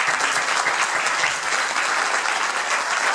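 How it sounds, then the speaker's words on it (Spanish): An audience at a conference gives the speaker sustained, dense applause. The clapping is close and loud and stays even throughout, with no talk over it. "Le damos un aplauso al maestro,"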